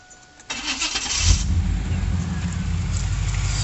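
A 1996 LT1 Camaro fitted with an LTCC coil pack conversion cranks and fires up, catching after a short starter whir into a loud, steady idle that rumbles close by.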